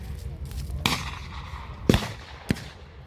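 Blank rounds fire during a WW2 battle reenactment of close combat, three or four sharp cracks spaced irregularly over a rumbling outdoor background.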